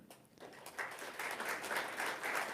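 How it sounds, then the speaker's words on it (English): A gala crowd applauding donors, scattered clapping swelling into a steady, moderately distant round of applause that builds over a couple of seconds. "Let's give them a round of applause as I read their names."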